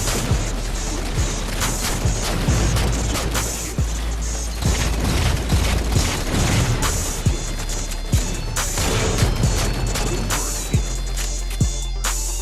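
Loud, continuous gunfire and explosive booms from a first-person video game match, with rapid bursts of shots and heavy impacts layered densely over the whole stretch.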